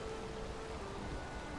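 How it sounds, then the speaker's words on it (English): Steady rain falls in the video game Valheim, a soft, even wash of hiss with no distinct drops, moderately loud and continuous throughout the short stretch. "A little bit of rain is going through here"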